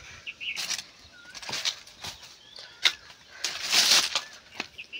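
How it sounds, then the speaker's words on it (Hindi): Pigeons take flight in the morning in a village, their wings flapping in soft, irregular bursts at moderate distance, with faint bird calls and outdoor ambience. "कबूतर उड़ रही एकदम अच्छा"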